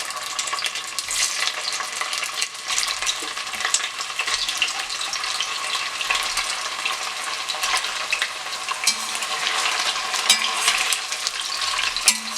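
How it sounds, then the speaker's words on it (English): Chitol fish pieces for muitha frying in hot oil, a steady crackling sizzle with occasional soft stirring and scraping, close and continuous without any talk. "Adding the fish, going to fry the fish pieces."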